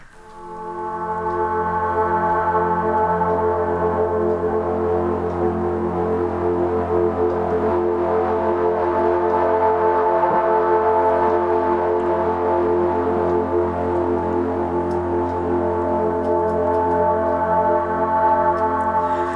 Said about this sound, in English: That's the sound of a freighter ship with cargo carrying human soul